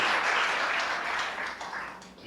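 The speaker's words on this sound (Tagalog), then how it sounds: "Palakpak nga si Lord." A church congregation at a worship service claps together, a steady wash of many hands applauding close by for about two seconds, with faint voices mixed in.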